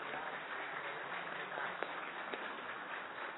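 Audience applause from the gallery at a formal solemn session in Pernambuco, a steady, dense wash of many hands clapping at once, continuous and even for the whole stretch with a few sharper claps standing out.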